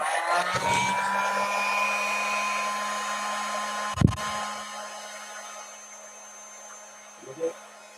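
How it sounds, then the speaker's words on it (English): A heat gun warming up runs as a steady, close, whirring blower hum from start to finish, with a brief thump and a soft knock over it. "Let me get my heat gun"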